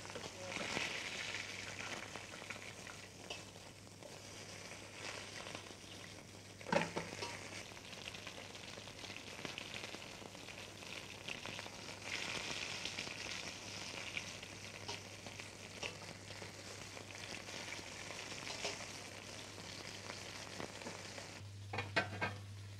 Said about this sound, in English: The oxtail pieces are browned in oil.